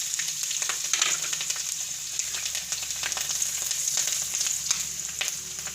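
Garlic and green chilies sizzle steadily in hot oil in a pan on a lowered gas flame, a dense continuous crackle with occasional sharper pops, close and fairly loud, no voices.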